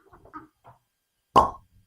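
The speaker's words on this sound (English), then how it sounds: "Give us a nice cork pop." A cork pops weakly from a beer bottle during a blend taste test, one short, soft plop following a few faint murmurs.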